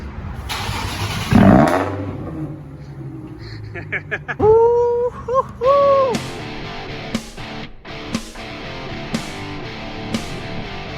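A straight-piped Nissan 370Z with a 332 hp V6 fires up after a noisy crank, then gives several sharp throttle blips close by, with people talking around it.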